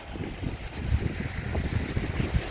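Evening surf rolls onto Chao Lao Beach in Thailand, a continuous hiss and low rumble of waves heavily buffeted by strong wind noise on the microphone, with no talking.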